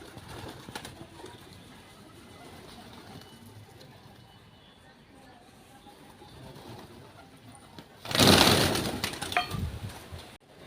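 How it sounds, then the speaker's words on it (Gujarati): Pigeons gathering at a home to eat scattered millet grain coo softly over low background noise, then a loud, close burst of flapping wings erupts near the end. "તો કબૂતર આવ્યા છે શેણ ખાવા"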